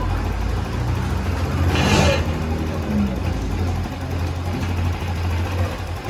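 A faulty Honda Scoopy motorbike engine running in a workshop, an uneven low rumble with a brief louder swell of revving near the start before settling into a rough idle.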